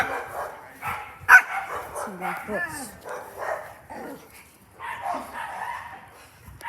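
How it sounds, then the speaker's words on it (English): Dog barking and yipping repeatedly at close range, the bursts mixed with a person talking. "Sorry, it's a dog actually."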